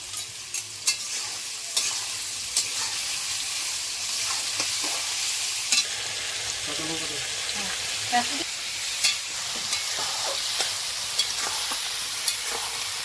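Goat fat (mutton charbi) frying in a pan and being stirred, a steady broad sizzle with regular scraping stir strokes spaced about a second apart, close and fairly loud, with no talk.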